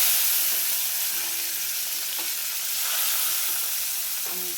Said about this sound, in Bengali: আমি সবজিগুলো ভেজে নিই